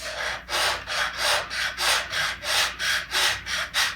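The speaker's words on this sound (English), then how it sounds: "run these curved sanding blocks along these surfaces and keep a nice flat here" A curved sanding block rubbed back and forth over a shaped oak surface, a steady rhythmic scrubbing of about eight close, even strokes with no talk.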